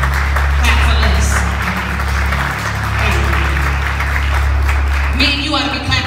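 A crowd at a live church-style women's celebration applauds, a broad continuous wash of clapping that holds steady for several seconds, close and fairly loud, with a voice rising near the end.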